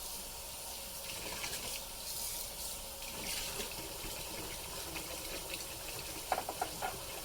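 Tap water runs steadily into a sink while rinsing out a container for a pokeberry and apple cider vinegar drink, a continuous broadband hiss with a few brief clatters near the end.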